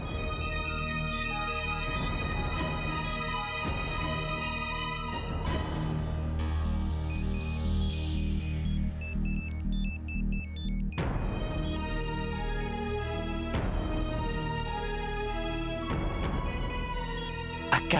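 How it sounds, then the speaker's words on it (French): A mobile phone ringtone plays as a steady electronic melody, fairly loud, for most of the stretch, with dramatic background music from a Bollywood TV serial running underneath. "Ashna, il y a ton téléphone qui sonne"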